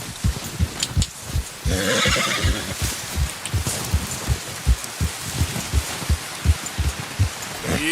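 Horse in Red Dead Redemption 2 whinnying and snorting over a steady clip-clop of hooves, the rhythmic hoofbeats running throughout at close range.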